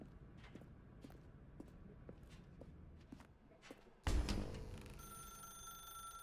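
A telephone rings in the video game The Stanley Parable, a sudden loud burst with sustained bright tones after quieter rhythmic footstep-like taps.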